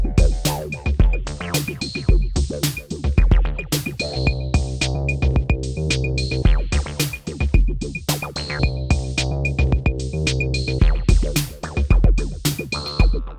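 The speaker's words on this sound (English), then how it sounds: "But then if I add Infiltrator plus this Bitwig modulator" A synth bass processed through Infiltrator and a Bitwig steps modulator plays a busy, choppy rhythmic pattern with stuttering, sliced notes over a steady beat, loud and continuous.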